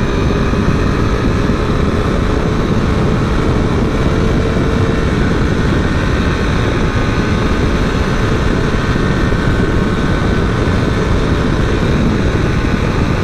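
A 2020 Triumph Tiger 800 motorcycle races at around 200 km/h, its engine a loud, unbroken roar blended with heavy wind rush, steady throughout with no speech.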